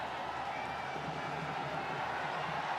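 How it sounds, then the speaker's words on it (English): A steady, dense roar from a large crowd fills a men's junior field hockey World Cup match between Australia and India in Lucknow, holding at an even level throughout without breaks. "crowd roaring as India work their way up to the halfway line"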